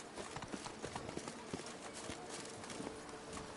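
Hooves of the horse Roach clip-clopping at a run in The Witcher 3, a quick steady patter of hoofbeats under a dense bed of game music and ambience, with a voice talking over it.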